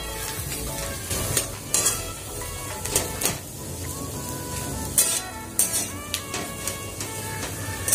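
Vada pav potato mixture stirred in a pan with coriander, a continuous faint sizzle broken by sharp metallic scrapes and taps of the spoon against the pan at irregular intervals.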